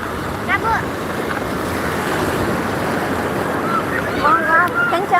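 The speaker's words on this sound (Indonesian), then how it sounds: "Ombak, kencang ombak." Strong ocean waves surge and wash onto a beach in the rainy season, a loud continuous roar with gusting wind noise on the microphone and brief voices calling out.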